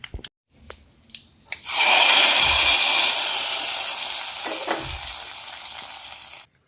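Fenugreek seeds, dried red chillies and curry leaves dropped into hot oil for a tempering, erupting into a loud, close sizzle that hisses steadily and slowly fades, after a few soft kitchen clatters.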